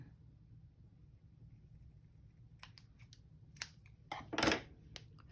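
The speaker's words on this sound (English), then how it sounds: "Let me see, cut it over here over the top of this." Scissors snip through paper during a papercraft project, a faint background hum followed by a series of crisp cutting clicks and a louder closing snip near the end, close and with no talking.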